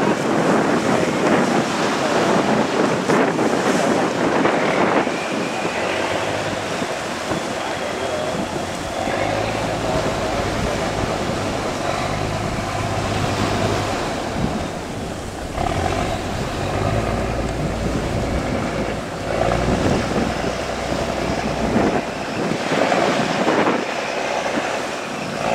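Fishing boat surging through rough sea waves during a storm, with a constant roar of surf, engine and wind buffeting the microphone, loud and close throughout.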